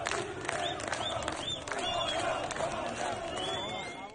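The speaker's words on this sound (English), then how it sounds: "Crowds are roaring death to the dictator in Tehran, Isfahan" Protest crowd in the streets of Iranian cities such as Tehran and Isfahan, roaring in a dense continuous mass of voices with shouted rises, steady and fairly close throughout.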